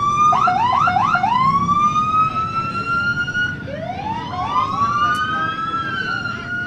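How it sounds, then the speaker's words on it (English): Several loud police sirens wail together at a July 4th parade, rapid yelps giving way to rising and falling tones, close by over a low rumble of background noise. "Lots of loud sirens."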